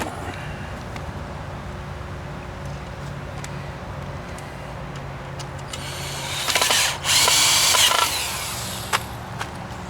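A power drill drives screws into a round backyard trampoline frame; a steady hum of background noise gives way to a louder whirring burst of about a second and a half near the end.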